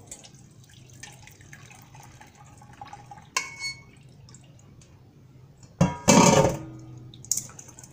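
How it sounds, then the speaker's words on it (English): Liquid from cooked peas is strained off in a kitchen, heard as a faint steady trickle and drip, then a brief loud splashing pour near the end, with no talking. "all I'm gonna do is just strain the rest off"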